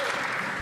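Brief burst of dense applause from members in the House of Commons during question period, a loud steady clatter of many clapping hands.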